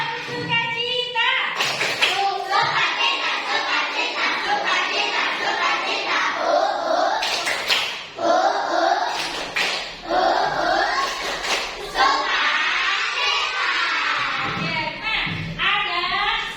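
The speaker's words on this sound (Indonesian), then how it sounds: "Tepuk sukacita." Schoolchildren perform a rhythmic joy clap in class, with repeated sharp hand-clap bursts in a patterned beat mixed with the group's chanting voices throughout.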